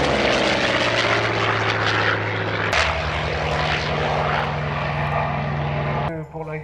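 Hawker Sea Fury propeller fighter flying at the Melun Villaroche airshow, a loud piston-engine drone with a pitch shift as it passes, fading near the end, with commentary over it.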